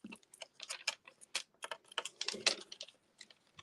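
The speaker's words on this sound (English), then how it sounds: "I'm going to have to snip that actually with my snips." Metal snips cut through card for a handmade corner fold card, a rapid run of close, crisp clicks and snaps repeating steadily for a few seconds.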